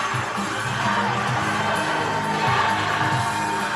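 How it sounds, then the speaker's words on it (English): Cheering crowd at a youth swimming championship gala, a steady, dense roar of shouts and whoops from spectators that fills the whole stretch without a break, fairly loud and close. "We don't need the music with the amount of cheering here."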